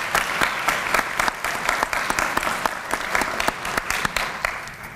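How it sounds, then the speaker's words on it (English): An audience at a 2014 HOSA closing session breaks into sustained, dense applause, many hands clapping at once with crisp individual claps popping out, fading slightly toward the end. "So please give them a round of applause."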